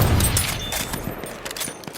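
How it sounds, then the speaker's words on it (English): Gunfire in Battlefield 1, the World War I shooter, with a short kill-confirmation chime layered on top: a dense burst of shots and booms that gradually thins out over about two seconds, loud and without any speech. "listen to this little chime that happens after you get a kill"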